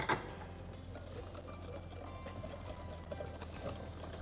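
Liquid cake batter for a coconut semolina cake, with melted butter added, churns steadily under a continuous low whirring mix with a faint sloshing texture, close and even throughout.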